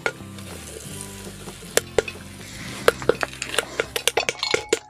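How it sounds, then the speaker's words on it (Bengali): Corn kernels burst into popcorn inside a pressure cooker over a low sizzle, the sharp pops sparse at first, then quickening into a loose, irregular cluster of loud close cracks. "এখন ফটফাট করছে, একটু লবণ দিয়ে দিচ্ছি।"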